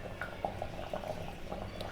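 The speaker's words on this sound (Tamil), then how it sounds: "இப்போ நான் ஆஃப் பண்ணிவிட்டேன், ஆனாலும் கொதிச்சிட்டே இருக்க பாருங்கள்." Curry in a clay pot keeps bubbling gently after the stove is switched off, making faint, scattered small pops over a low steady simmer.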